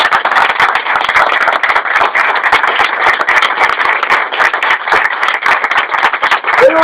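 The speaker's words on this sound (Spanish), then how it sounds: "voy a pedir, como hago cada semana, un aplauso por el jefe Seattle" Loud, sustained applause from a crowd, dense continuous clapping that carries on without pause.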